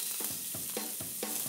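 Burger patties sizzling in a hot pan, a steady frying hiss with rhythmic scraping strokes repeating about every half second, fairly close and without talk.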